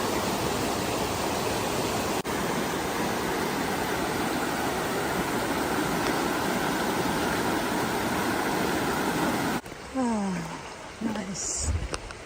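Loud, steady rushing of a river runs beside a trail on New Zealand's Te Araroa near Waiau Pass and Blue Lake, a broad unbroken roar that cuts out abruptly near the end, leaving quieter outdoor sounds.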